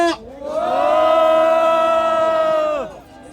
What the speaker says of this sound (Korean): 큰 함성 부탁드리겠습니다.